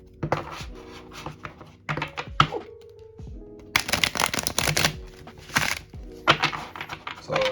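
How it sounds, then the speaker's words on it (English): A Druid Craft tarot deck is riffle shuffled in several bursts of fast fluttering clicks, separated by soft thumps and handling noises, close up. "Let's see if it rifle shuffle well."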